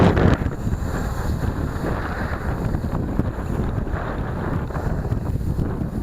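Strong wind roars across the microphone outdoors while an MJX Bugs 3 drone is flown, a constant dense rush with a sharp gust at the start.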